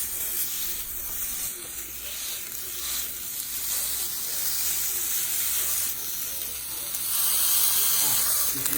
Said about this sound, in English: This sizzle stayed. I'm going to let you hear it for a minute.